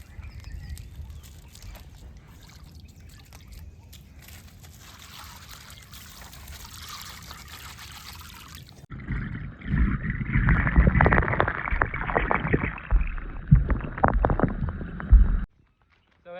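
Orbeez gel beads poured into a swimming pool, a loud rushing, gurgling cascade into water lasting several seconds after a quieter stretch of background noise.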